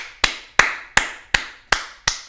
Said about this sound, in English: I had to give him a little clap